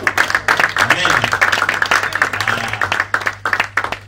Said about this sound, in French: Est-ce qu'on va applaudir pour le Seigneur?